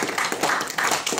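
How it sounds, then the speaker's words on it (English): An audience in a school gathering bursts into applause, dense rapid clapping heard up close that swells in a few uneven waves over a second or so, with no voices on top. "Can we have a big round of applause as well?"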